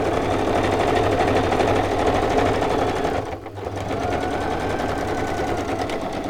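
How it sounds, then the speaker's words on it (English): A sewing machine back stitching on a handmade book project, a steady close rapid needle chatter running throughout, with a brief dip mid-run as the stitching reverses direction before carrying on, with no talk. "And I am going to back stitch there because that could open."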